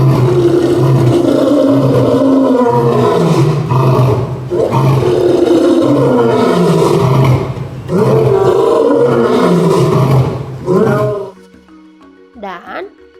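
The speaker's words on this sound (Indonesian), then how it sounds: "Suaranya mengaum keras dan sampai-sampai bisa terdengar hingga 8 km jauhnya" A lion roars loudly and repeatedly in several long, powerful bursts, close and dominant, then the roaring stops and faint background sounds remain.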